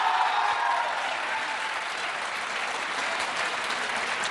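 Dense, loud applause from a studio audience at a televised Hindi political debate, continuous clapping at an even level throughout with no talk over it.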